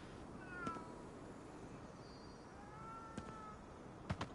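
A cat meows several times in the video game Ghostwire: Tokyo, with faint drawn-out calls spread across a quiet, steady ambient background and a few sharp clicks near the end.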